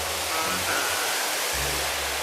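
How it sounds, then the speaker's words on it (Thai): A waterfall in Japan gives a steady, broadband rush of falling water that stays close and constant, with a slight low rumble underneath and no voices. "น้ำตกตรงนี้นะครับ ชื่อว่าน้ำตก โจองโน ทักขินะครับ"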